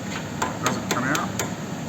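A small hammer taps on a part in the engine bay of a 1925 Studebaker: five light, evenly spaced metallic knocks, close by, over a steady background hiss.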